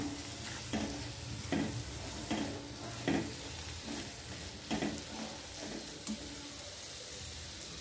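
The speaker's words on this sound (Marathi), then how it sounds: "आणि हे छान हलवून घ्यायचे आपल्याला बघा अशा पद्धतीने" Ridge gourd and mung dal stirred in a sizzling pan, a soft continuous frying hiss broken by about a dozen rhythmic scraping strokes of the spoon, nearby and without talk.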